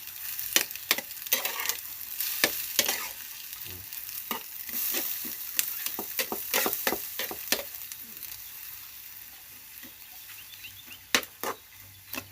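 Glass noodles stir-fried with egg and bean sprouts in a pan, a steady sizzle punctuated by sharp scraping and clacking strokes of a spatula, close and fairly loud, with no voices.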